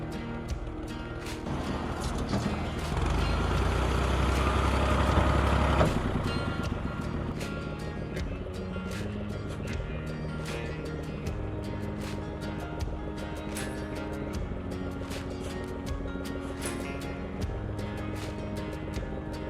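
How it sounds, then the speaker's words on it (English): A tractor engine runs steadily while its bucket is filled with sandy, rocky soil, rising into a heavier rumble for a few seconds early on, then settling back to a constant idle hum with faint clanks. "While I fill up the tractor bucket,"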